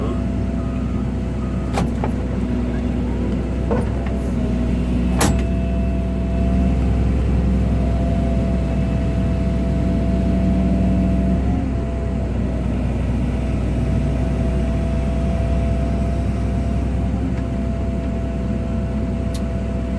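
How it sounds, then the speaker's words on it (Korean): Steady traffic on a road beside a gabion stone-basket work site with a 14-ton excavator, a continuous low rumble of passing cars and larger vehicles with a few sharp clanks, while someone speaks intermittently. "차들이 많이 다녀"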